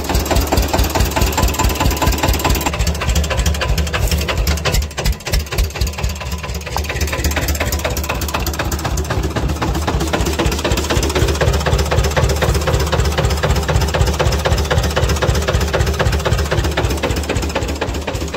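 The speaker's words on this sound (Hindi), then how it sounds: "ले भाई यो ट्रैक्टर अपना जोन डियर 5310 ठीक है" A John Deere 5310 tractor engine runs close and loud, with a fast, even knocking diesel pulse that holds steady for the whole stretch and shows no talking.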